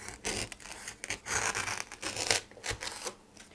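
A floral knife cuts and scrapes through floral foam in a series of short, close, raspy strokes, faint and with no talking.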